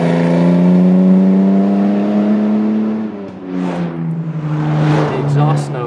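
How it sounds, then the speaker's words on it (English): A Jaguar C-Type on the road gives a loud, close exhaust drone, a steady rich tone that dips and shifts pitch around the middle, then comes back rougher as the engine is worked again. "The exhaust note is one that makes you want to just rev it and rev it and rev it"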